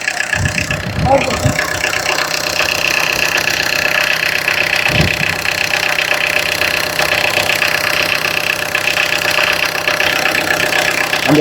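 A used car's engine idles steadily at a roadside car lot, a continuous mid-pitched rumble with light mechanical ticking, while someone talks over it near the recorder.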